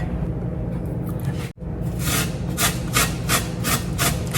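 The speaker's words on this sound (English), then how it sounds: "Whenever you're going to grate zucchini, it's best to start from the smallest end" Zucchini is grated on the small holes of a box grater, close, loud rasping strokes that start as a continuous scrape, pause abruptly, then settle into a regular rhythm of repeated downward passes.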